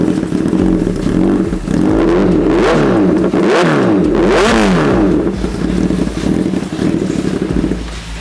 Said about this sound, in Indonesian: langsung aja kita cek sound knalpot dari Austin Racing full system